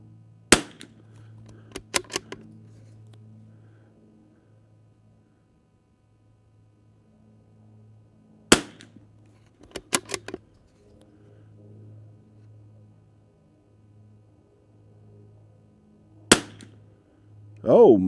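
Tikka T1X rifle firing Lapua Biathlon Extreme rounds outdoors in high wind: several sharp, loud shots spaced irregularly, some in quick pairs, over a low steady wind rumble.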